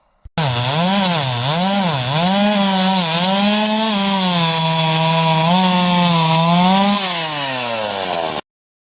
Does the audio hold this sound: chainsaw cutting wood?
yes